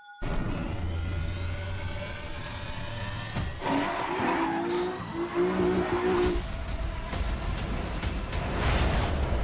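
Gran Turismo race cars skid and squeal their tires while engines rev and roar, a dense, loud mix of tire screech and accelerating motors with shifting passes throughout, no talk heard.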